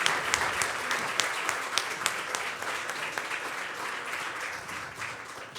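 Standing applause for newly elected officials at a May 2025 inauguration ceremony, sustained crowd clapping with sharp individual claps on top that stays steady and slowly eases.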